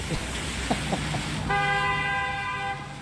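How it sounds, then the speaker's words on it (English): Car horns honk in a rainy Southern California street, first short scattered toots, then a long sustained blare near the middle over the hiss of passing traffic. "people are honking"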